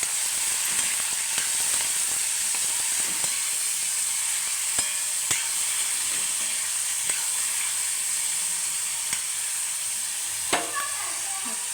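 Cowpea pods sizzle and fry steadily in a hot pan, with scattered clicks and scrapes of a spoon stirring the vegetable throughout, close and fairly loud.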